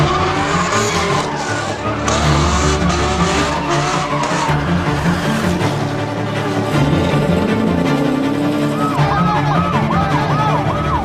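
A fast car roars past at up to 198 mph during an illegal street takeover, tires squealing and skidding, engine noise shifting, and a wailing siren rises and falls near the end.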